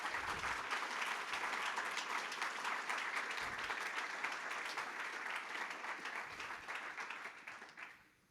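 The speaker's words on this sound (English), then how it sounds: "if we could get a round of applause for him and all of our speakers today" Dense, sustained applause fills a conference hall as the audience claps for speakers at an investing event, holding steady for several seconds before thinning and tapering off near the end.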